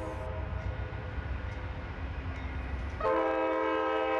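Passenger charter train rumbling along on the Bay Area to Reno route, low rolling noise joined partway through by a loud, sustained multi-tone horn blast.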